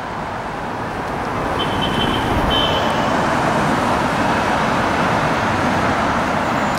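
Dense New York City street traffic with a bus, a constant loud roar of engines and road noise, with a faint high tone briefly audible in the middle.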